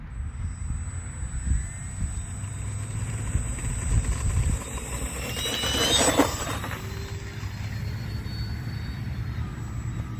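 An RC F4U-4 Corsair model plane with an 1100mm wingspan throttles up for takeoff, its steady high motor whine swelling and sweeping upward midway before settling into a continuous drone.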